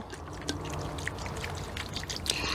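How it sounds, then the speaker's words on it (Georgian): Wine pours onto barbecue pork ribs in a dish being prepared for oven roasting, a faint, steady trickling splash lasting a couple of seconds over a low background hum. "აი ამას რო გაამზადებთ ესე მე დაბლა დაასხით ღვინო"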